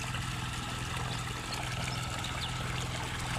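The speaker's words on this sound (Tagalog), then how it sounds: "Lakas ng tubig idol, no?" Strong rushing water flows steadily and loudly close by, a dense continuous wash with a low rumbling undertone and no pauses.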